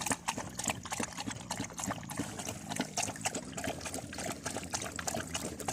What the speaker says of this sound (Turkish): Şişemizi dolduruyoruz.